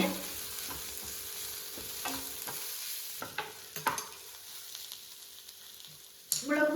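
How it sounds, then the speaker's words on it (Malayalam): Chili powder stirred into a tomato egg fry in a pan, with a steady sizzle of frying under scattered scraping and clacking strokes of the spoon against the pan. "ഈ സമയത്ത് ഒരു മുക്കാൽ ടീസ്പൂൺ മുളക് പൊടി ചേർത്ത് നന്നായിട്ടൊന്ന് ഇളക്കി കൊടുക്കാം"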